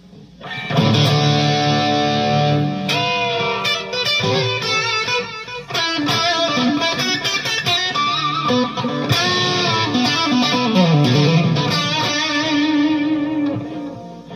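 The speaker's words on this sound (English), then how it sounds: "So let's try an even more aggressive amp sound." Aggressive, heavily distorted amp tone from an electric guitar played through a Fender Mustang Micro used as a preamp, loud and sustained with chords and riffs throughout, no talking.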